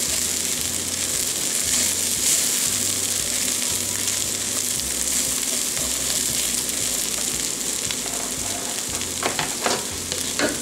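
Chicken feet and corn for esquites frying in a pan give a steady close sizzle, with occasional stirring scrapes and spatters toward the end.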